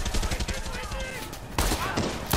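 Rapid gunfire rattles in Far Cry 6, a loud close burst of repeated shots at first, then a brief lull before more heavy shots crack out, with a voice heard among them.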